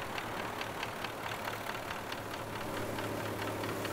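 A DT-175S tractor from Farming Simulator 19 idling, a steady low rumble with faint rhythmic knocking, constant and unbroken.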